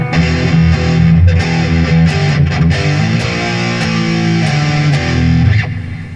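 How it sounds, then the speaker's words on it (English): Electric guitar played through a JHS Colour Box distortion pedal into a Peavey Viper amp, a steady run of loud, buzzy distorted chords and notes for several seconds with no talking. "so we're gonna add distortion."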